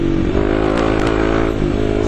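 A motorcycle rides through dusty off-road terrain, its engine droning steadily and up close with slight shifts in revs and some clatter throughout.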